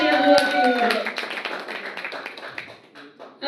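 Guests clap at a birthday celebration, a dense burst of applause that trails off into scattered claps, with a voice speaking over the start.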